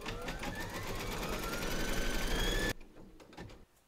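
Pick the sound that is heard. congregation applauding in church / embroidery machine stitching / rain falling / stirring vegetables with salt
embroidery machine stitching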